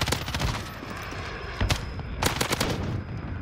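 Rapid automatic gunfire bursts from the M13 rifle in Modern Warfare, several sharp volleys separated by short pauses, loud and close with no talking.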